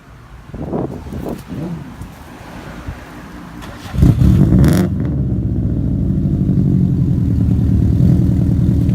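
A 2002 Subaru WRX engine revs up sharply and then settles into a loud, throaty idle from the exhaust, preceded by some clattering and faint voices.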